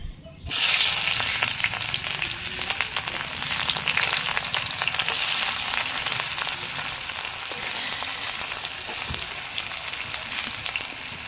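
Onions and panch phoron five-spice frying in oil in a wok, a steady dense sizzle and crackle that starts abruptly and holds close and loud throughout, with occasional stirring scrapes.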